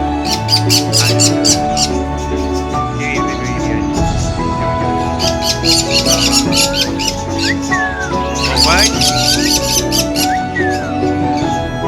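A hill parrot squawks and chirps in repeated sharp bursts over busy background chatter, while a person speaks briefly.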